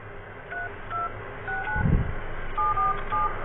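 Phone keypad tones entering a number, a series of short two-tone beeps spaced about half a second apart, clear and close, with a brief low thump midway.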